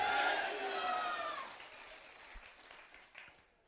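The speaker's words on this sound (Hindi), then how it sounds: "दरबार में आनंद आ रहा है तो ताली बजा दीजिए।" An audience at a religious darbar gathering bursts into applause that swells briefly over a voice, then thins and fades to scattered claps within a few seconds.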